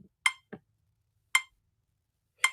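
Sparse, faint clicks from a metronome app ticking out a steady beat, a brighter accented click alternating with softer ones, thin and electronic.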